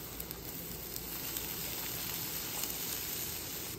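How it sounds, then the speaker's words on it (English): Onions sizzle on a Blackstone griddle with a quiet, even hiss and small scattered pops and crackles, steady throughout with no talk. "So we'll get the onions down there."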